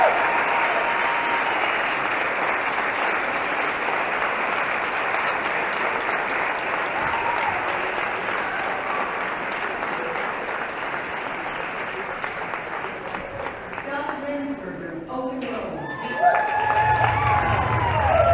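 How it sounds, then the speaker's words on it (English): Audience at an Emmy Awards gala breaks into sustained, loud applause with some cheering, a broad crowd wash that holds steady before thinning out near the end. "we give her a big round of applause"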